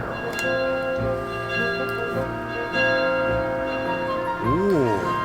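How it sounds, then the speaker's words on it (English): Chiming bells ring out in The Legend of Zelda: Skyward Sword, sustained tones layered over steady game music and ambience, with a rising swirl of tones near the end. "The bells are ringing."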